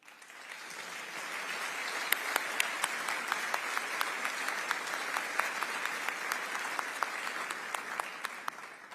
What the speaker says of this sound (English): I ask that you all please stand so that we can give you a round of applause for joining us today.